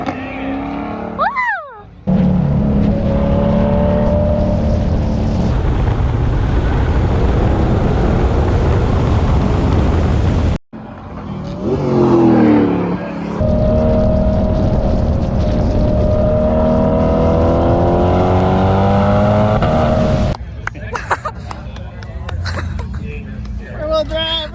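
A C8 Corvette and a C7 ZR1 drag race at the Freedom Factory, loud engine roars and rising revs passing close with shifts and a sudden cut, while a crowd and voices talk over the noise.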